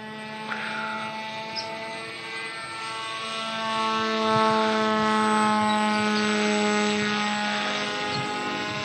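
An FX-61 RC flying wing's propeller motor drones steadily in flight, a buzzing harmonic whine that swells louder and shifts pitch partway through, heard alone without speech.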